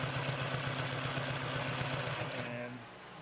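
A Consew P2339 double needle walking foot industrial sewing machine stitches at a fast, even mechanical pulse, close and steady, then winds down and stops.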